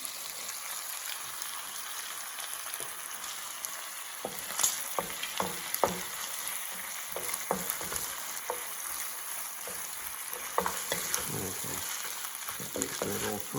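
A sizzling curry base for a Keralan coconut curry being stirred in a pan, with a steady frying hiss and intermittent scraping and stirring clatter, close and moderately loud, without talk.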